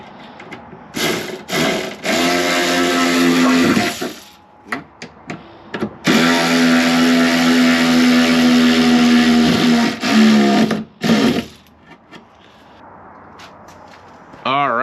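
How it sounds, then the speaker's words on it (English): An Enegitech 12V electric ratchet wrench with a screw-driving adapter whirs loudly in two long bursts, with a steady motor hum that drops off between runs, followed by short clicks and handling sounds. "I got this adapter for this ratchet tool so I can drive some screws in."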